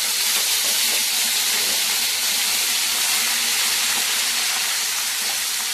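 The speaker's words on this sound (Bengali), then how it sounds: "এখন বেটে রাখা পেঁয়াজ রসুন আদা ওটা দিয়ে দেব।" Onion, garlic and ginger paste frying in hot refined oil in a kadai, giving a loud, steady, close sizzling hiss with no talking.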